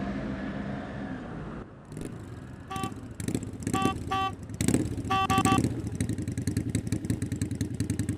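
Motorcycle engine idling and revving nearby on a street, a rough puttering rumble that builds louder with clattering bursts and horn-like toots mixed in.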